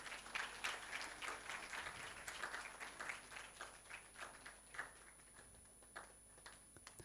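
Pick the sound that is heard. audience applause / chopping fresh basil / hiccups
audience applause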